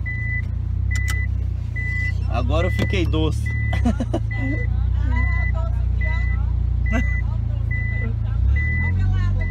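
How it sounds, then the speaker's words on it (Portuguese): Mitsubishi Lancer Evolution parking with a worn brake, a steady high reversing beep repeating about once a second over a low engine rumble, while people talk nearby. "Eu tô estacionando e o freio já tá meio ruim."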